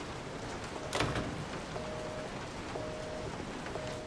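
A steady rainfall hisses at night in Resident Evil 7, pouring heavily, faint and even, with a sharp knock or crack early on and soft recurring beeps over the downpour.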